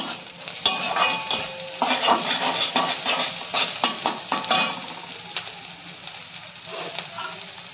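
Green chilies and onions sizzle in a pan as a metal spoon scrapes and clatters repeatedly while stirring, close up, then the stirring eases and the frying continues.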